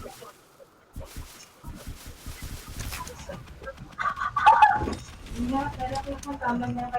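Chickens cluck and squawk repeatedly in Roblox Bedwars, with a synthetic, game-like quality, mixed with a voice talking and clicking sounds.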